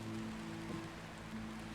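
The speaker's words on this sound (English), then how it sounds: "Yeah, it's rain, duh. The raindrops." Rain falls in a steady, faint, even hiss with a low hum underneath, with no voices.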